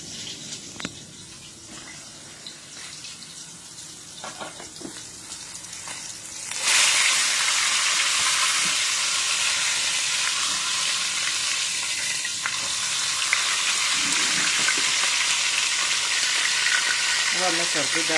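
Garlic hits a hot pan and a loud, steady sizzle erupts, which continues evenly at close range. Before that there are quieter kitchen clatters and faint voices.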